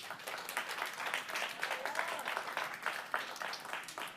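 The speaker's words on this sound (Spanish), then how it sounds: "¿Por qué no le damos un aplauso al Señor?" Church congregation applauding during a Spanish-language sermon, a steady wash of many hands clapping at moderate, fairly distant level, sustained for a few seconds with a few voices mixed in.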